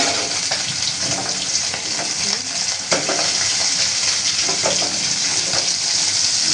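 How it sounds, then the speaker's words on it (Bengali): Rui fish sizzles as it fries in hot oil in a kitchen pot, a loud and continuous spattering crackle with occasional sharper pops and no talk. "মাছটা ভাজা হোক, তারপরে দেখা পাবেন"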